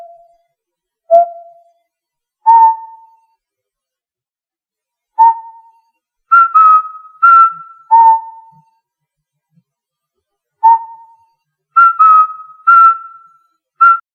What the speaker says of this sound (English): The way Luigi whistles the theme when he's walking through a lit up hallway or room is just adorable.